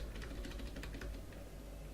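Quick, even keystrokes on a computer keyboard, a close soft clatter of rapid taps over a steady background hum with no speech.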